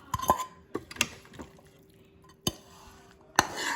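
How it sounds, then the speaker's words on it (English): Potatoes are mashed in a pot into a gravy, with a few sharp metallic clinks and knocks of a utensil against the pot at irregular intervals, close, with no talk. "I'm just going to quickly mush the potatoes so that we form like a gravy."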